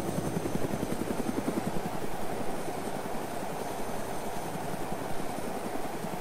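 A helicopter flying in the ArmA 2 video game gives a steady rotor thump with an engine hum underneath, constant and fairly loud with no talking.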